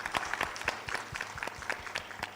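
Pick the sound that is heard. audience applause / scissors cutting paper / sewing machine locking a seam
audience applause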